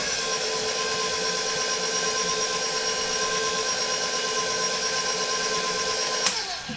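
An electric mixer whirs steadily at high speed through coconut cake batter, a loud, even motor hum that runs on before cutting off with a brief clatter at the end.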